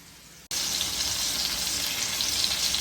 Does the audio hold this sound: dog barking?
no